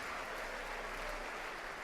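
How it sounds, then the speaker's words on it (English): Sustained audience applause fills a boxing gym after a Prizefighter lightweight quarter-final bout, a dense, steady wash of clapping at even loudness throughout with no voices standing out. "a round of applause for both gallant boxers, please"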